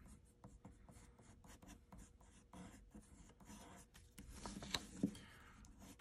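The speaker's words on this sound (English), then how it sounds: "I'm just going to kind of just draw in some shapes of what I want him to look like." Pencil drawn over a wooden carving block, sketching the outline of a caricature bear: a quiet, steady scratching and rubbing that runs throughout, with a couple of brief louder scrapes near the end.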